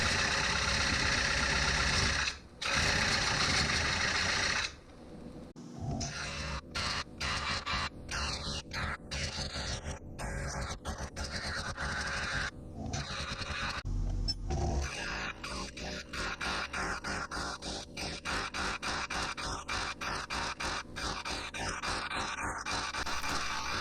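A wood lathe cores out an elm wood bowl with a continuous motor hum and a dense, rapid chatter of the coring tool, stopping briefly between passes and resuming, with no talk over it.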